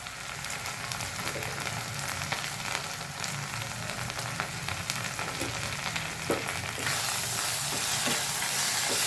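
Spices with turmeric and salt being stirred in a hot pan, giving a steady low sizzle and hiss with occasional soft scrapes; the frying noise swells louder near the end.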